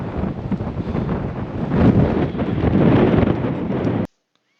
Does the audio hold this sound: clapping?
no